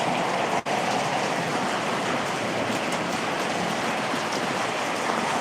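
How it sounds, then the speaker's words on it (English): Hail falls and bounces outdoors in a dense, steady patter that fills the whole stretch, with one brief dip near the start and no talking. "Oh, there comes more hail."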